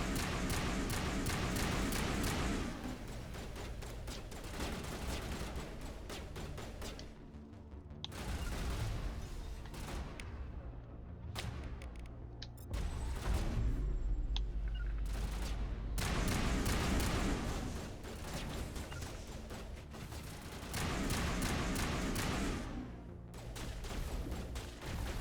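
Assault rifle fire in the Mass Effect Legendary game, long rapid bursts of close, loud shots broken by a few brief lulls and heavier thuds, rattling on and off for about twenty-five seconds.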